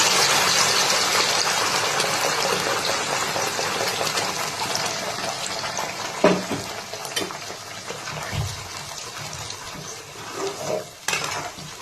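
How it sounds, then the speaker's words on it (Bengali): Prepared spinach paste for palak paneer hits a hot pan, setting off a steady, loud sizzle with a few utensil knocks and scrapes in the kitchen, no voices. "এবারে পেস্ট যেটা করা ছিল সেটা ঢেলে দিলাম"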